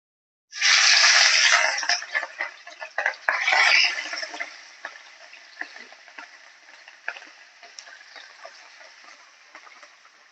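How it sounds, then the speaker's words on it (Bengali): Fish frying in oil in a pan, a loud burst of crackling sizzle as the pieces go in, then settling into a steady spitting fry with scattered pops that slowly fades, no voices. "এবার মাছগুলো ভেজে নেব।"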